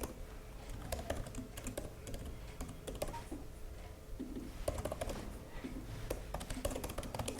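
Typing a prompt into ChatGPT on a computer keyboard, a quick irregular run of soft key clicks and taps, close but quiet, with no talking.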